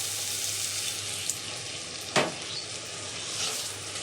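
A steady, bright sizzle rises from a hot pan of tomato paste and spices for an egg potato curry after a little water goes in, with one brief clatter partway through.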